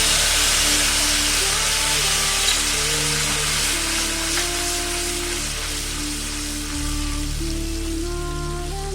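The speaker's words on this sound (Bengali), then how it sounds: "এবার আমি মশলাটা ভেজে নেব" Whole spices, cardamom and cinnamon, sizzle in hot oil in a pan while masala is fried for butter paneer, a steady, dense crackling hiss that persists throughout, with no talk over it.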